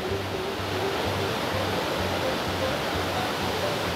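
Roar of a waterfall heard from near its base beside wet rocks on a hiking trail, a loud, steady broadband rush with no break and no speech.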